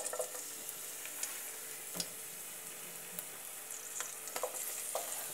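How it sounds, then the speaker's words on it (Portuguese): Garlic and onion sautéing in olive oil in a pot, a soft steady sizzle with occasional faint clicks and stirring taps, heard close with no voices. "Agora eu vou refogar o meu alho e a minha cebola aqui nesse azeite."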